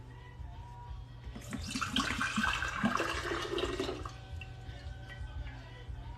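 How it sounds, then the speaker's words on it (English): Coconut water pouring in a steady splashing stream for a few seconds, loud and close, with a faint low hum underneath and no talking. "We have to pour this wonderful vintage of coconut water."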